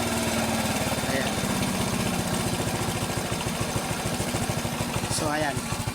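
A Honda XRM110 motorcycle engine idles steadily after carburetor tuning with a rapid, even putter, loud and close, with brief higher mechanical whines mixed in.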